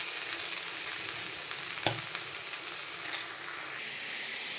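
Chickpeas and figs fry together in one pan for a vegetarian curry, and a soft, steady sizzle hisses close by, with one brief knock of the spoon partway through.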